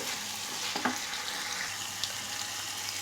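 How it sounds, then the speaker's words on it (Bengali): Spice masala with mutton and potato frying on low heat, a continuous soft sizzle with a couple of faint stirring taps. "পাঁচ মিনিট গ্যাস কমিয়ে আমি জিনিসটাকে কষিয়ে নেব"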